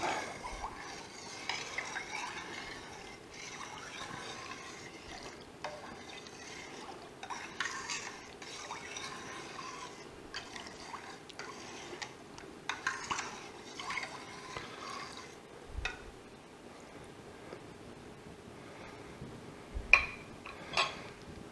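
Calcium chloride being stirred into milk for homemade cream cheese, a soft continuous swishing of a spoon through liquid, faint and steady, with a few light knocks against the pot.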